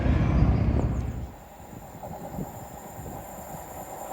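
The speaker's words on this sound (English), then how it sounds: "Oh, train!" A passing train by a coastal back beach, heard as a loud low rumble that falls away after about a second, leaving a faint background hiss.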